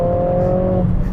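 A 2020 Mercedes CLA 45 AMG accelerates hard in Sport Plus mode, a brief, loud, close engine note that holds steady and then fades into a rumble.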